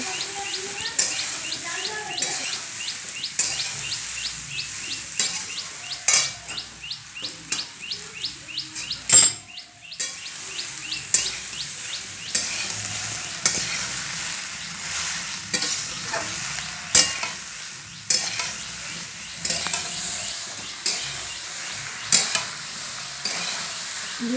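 Jujube pickle with turmeric and salt sizzles in a pan while being stirred continuously, a close, steady frying hiss broken by scraping strokes, with birds chirping faintly in the background.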